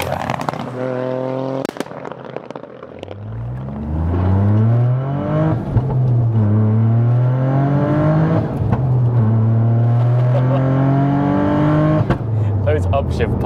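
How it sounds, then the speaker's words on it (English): A widebody, big-turbo Toyota GR Yaris with a fully forged 530 bhp engine revs hard through the gears, its loud, rising engine note broken by sharp exhaust pops on each upshift. "Those upshift pops are addictive."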